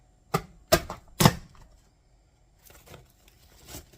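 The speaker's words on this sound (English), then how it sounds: "We're going to chop up 2 cups of strawberries so that they'll be in smaller dices" Three sharp knife chops on frozen strawberries, each a distinct hard thud on the board in quick succession, followed by a pause and then softer, fainter cutting taps, close and with no talk.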